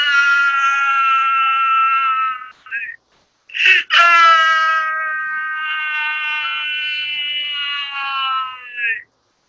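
A long, high, quavering wail in the manner of La Llorona's cry, sustained and loud, breaking off briefly with a sharp burst before resuming and fading out; likely a voice or effect imitating the ghostly cry.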